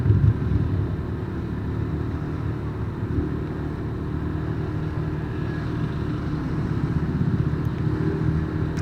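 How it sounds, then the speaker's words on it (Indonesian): Slow-moving traffic jam of cars and motorcycles on a mountain road near Tawangmangu, a continuous low engine rumble with idling and light revving from several vehicles nearby, steady throughout. "Ini sudah mulai macet ya yang turun ya."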